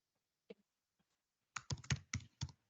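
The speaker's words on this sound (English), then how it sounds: "We can hear someone typing." Keys clack in a quick burst of typing, several sharp taps close together after a couple of isolated clicks in near silence.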